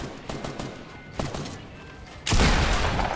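Gunfire in the video game Fortnite: a few faint scattered shots early on, then a sudden loud, dense burst of shooting that keeps going to the end.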